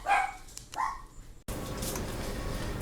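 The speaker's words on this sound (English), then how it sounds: "the dogs could get their bark out" Household dogs bark a couple of quick sharp times up close, then the sound cuts abruptly to a steady broadband hiss in a home kitchen.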